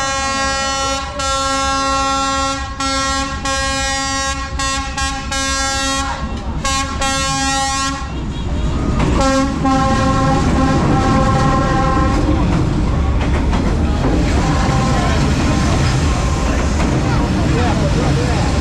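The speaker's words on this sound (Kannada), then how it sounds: "ಇನ್ನು ಕೆಲವೇ ಕ್ಷಣಗಳಲ್ಲಿ ರೈಲು ಬರ್ಬೋದು ಅಂತ ಎಲ್ಲ ಕಾಯ್ತಾ ಇದ್ದಾರೆ" A train rolls through Hanoi Train Street, opening with repeated loud horn blasts and then giving way to a heavy, close rumble and clatter as the cars pass right by.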